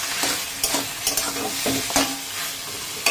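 Taro leaves cooking with a catla fish head in a sizzling pan, stirred vigorously with a spatula giving repeated scraping strokes over a steady close frying hiss, no voices.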